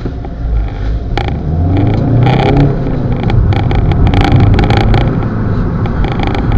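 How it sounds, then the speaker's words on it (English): An Audi A car's engine under way, a steady loud drone with rising pull as it accelerates, heard from inside the small vehicle with road rumble and no talk. "It's got a powerful engine."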